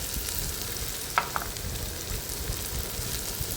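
Turmeric, coriander powder and Kashmiri chilli powder sautéing in hot oil for a Maharashtrian masala vangi (brinjal) dish, giving a steady soft sizzle with a couple of faint scraping stirs.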